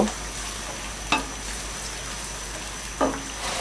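Garlic and ginger paste, with onion paste, frying in a pan for a shahi chicken roast, producing a steady low sizzle broken by two brief spoon scrapes against the pan.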